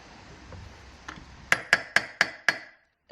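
Five sharp metallic strikes land in an even rhythm, an improvised hammer banging on junk, each hit ringing briefly, after a couple of lighter taps.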